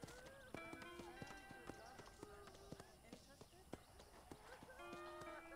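Horse hooves clip-clop in Red Dead Redemption, a quick irregular run of crisp hoof strikes with a brief whinny, mixed with game sound effects at a low overall level.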